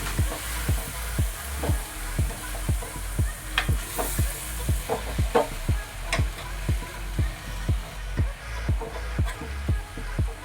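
Fenugreek leaf curry with soaked lentils is stirred in a pan, a spoon scraping in a regular rhythm of soft strokes, each about half a second apart, over a constant background sizzle.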